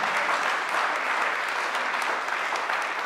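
Applause from residents at a Brooklyn community board meeting, a steady, even wash of many hands clapping at moderate volume with no talk over it.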